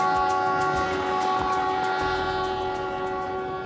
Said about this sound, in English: Our adventure begins almost conventionally on a train out of Cuzco, bound for Quillabamba, 100 miles north.